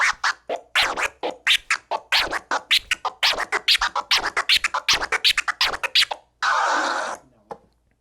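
Rapid turntable scratching in a looped delayed flare pattern, a stuttering rhythm of choppy bursts, loud and close, ending with a longer sustained scratch and a final short stab.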